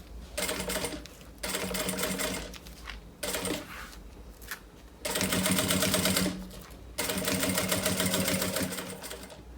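Sewing machine stitching fabric for a backpack, running in several loud close bursts separated by short pauses.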